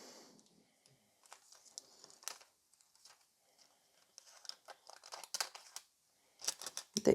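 Scissors snip through thin metallic nail transfer foil, a quiet series of crisp crinkling cuts and rustles in irregular bursts with short pauses, close and alone.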